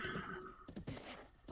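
Horse in the video game Zelda Breath of the Wild whinnying in a quavering neigh, followed by snorting breaths and faint hoof sounds, quiet and close.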